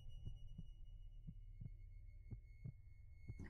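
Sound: heartbeat sound effect

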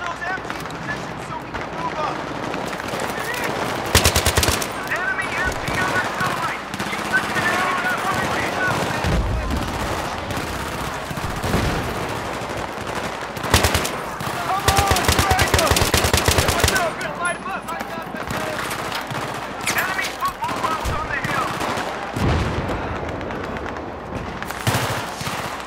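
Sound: gun firing with heavy recoil in video game Battlefield 3

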